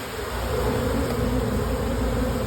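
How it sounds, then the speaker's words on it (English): Honey bees stream into a hive entrance after a traffic jam is cleared, giving a dense, steady buzzing hum, loud and close, with no break. "I just love to watch the bees coming into the hive after you block"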